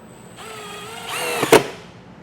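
A power drill drives a self-tapping screw into a 2025 Jeep Grand Cherokee: a brief, close motor whine rises in pitch and ends in a sharp burst as the screw bites, with no speech.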